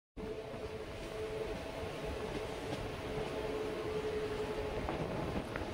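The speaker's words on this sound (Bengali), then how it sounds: "তো আমাদের ট্রেন ঢুকলো করজনা গ্রাম" A new EMU local train rolls into Korjona village station on the Katwa to Burdwan line. The loud, steady rumble of wheels and carriages runs throughout, with a faint tonal hum above it and no voices.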